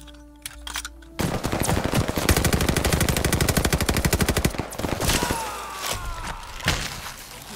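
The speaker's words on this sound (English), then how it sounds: "Open fire on that tree!" Soldiers in a realistic Pacific War 1943 video game firing on a tree, with a single early shot followed by a long, loud, rapid burst of machine-gun fire that falls away to scattered shots and metallic clatter.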